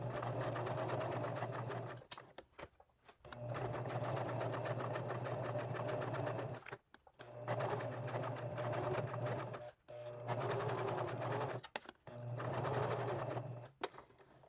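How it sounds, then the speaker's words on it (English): A sewing machine stitches down over a ribbon loop on a fabric collage project, running in steady loud bursts of several seconds each with brief pauses between, no talking. "I'm just going to stitch right over the top of that."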